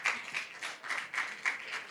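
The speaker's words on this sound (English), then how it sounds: "let's give a round of applause for our panelists for their discussion" An audience applauds panelists after a discussion at a presentation event, with a brief burst of scattered clapping that rises and falls in waves and sounds moderately distant.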